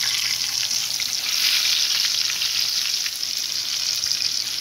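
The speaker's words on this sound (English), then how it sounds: "Now the oil is hot enough. Now what I'm gonna do, I'm gonna place my fish in the oil." Snapper fish fries in hot oil over medium heat, giving a loud, bright, continuous sizzle that crackles steadily throughout with no talking.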